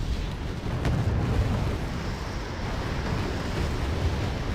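Explosions from a bombing run in Wargame Red Dragon roll out as a dense, sustained low rumble with a sharp crack near the start, loud and continuous with no talk.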